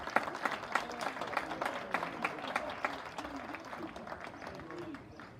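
Crowd applause at the 6th annual Somerset County senior softball game awards, sharp individual claps rising into a lively round that fades toward the end, a bit distant with faint voices mixed in.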